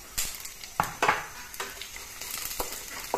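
Whole spices, panch phoron and cumin, hit hot oil and set off a sparse scatter of sharp pops and crackles over a faint sizzle. The sound is quiet and close, with no speech.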